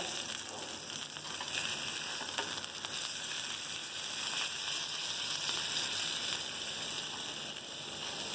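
Pomfret fish fries in a pan after being flipped, giving a loud, continuous, even sizzle that stays close and steady with no talking.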